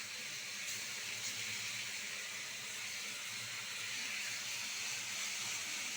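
A spice paste of ground cumin, ginger and mustard goes into a hot pan, giving a steady, moderately loud sizzling hiss that holds evenly throughout without a break.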